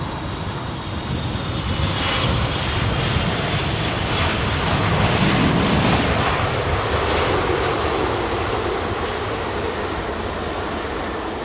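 A Thai Airways Boeing 777-300ER departs Heathrow runway 27R after a technical delay, its engines building into a loud, sustained roar that swells at mid-clip and then slowly recedes.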